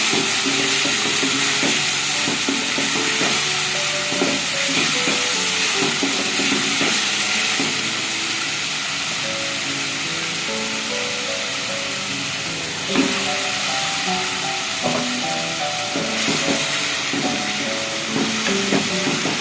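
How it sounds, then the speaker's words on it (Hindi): Kidney beans (rajma) fry in a pan of cooked masala for a red bean curry, a steady close sizzle running throughout with scrapes and knocks of stirring scattered across it. "अब हम इसमें राजमा ऐड करते हैं और इसको अब भूनते हैं अच्छे से"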